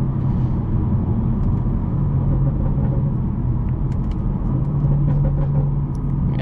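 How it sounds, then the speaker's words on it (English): A tuned BMW 440i with 75k miles cruises along, its engine and exhaust giving a steady low rumble inside the cabin, with faint crackling burbles near the end. "I hear those burbles back there"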